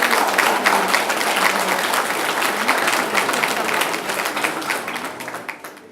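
A crowd at a golden wedding anniversary ceremony in Marly applauds the couple with steady, dense clapping that fades toward the end.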